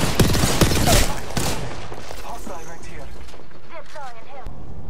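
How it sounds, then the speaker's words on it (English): Enemy gunfire in the Apex Legends video game comes as loud, rapid bursts in the first second and a half. It then drops to quieter game sounds and a voice. "The enemies are shooting."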